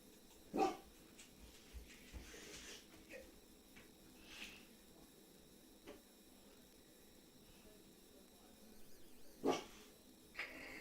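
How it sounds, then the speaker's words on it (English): Dogs bark in short scattered bursts, two sharper barks standing out against a quiet, faint indoor background with small whimpering noises between. "Stupid dogs."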